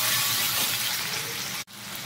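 Tomatoes and green chillies tipped into ginger paste frying in hot oil, giving a loud, steady close-up sizzle that cuts out for an instant and then resumes.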